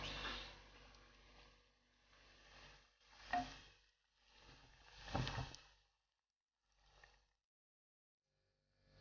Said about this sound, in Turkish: Altın rengini alana kadar kızartacağız.